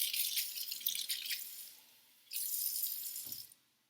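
Water pours into a dish for a meal-prep sauce in two short, quiet splashing bursts separated by a brief pause.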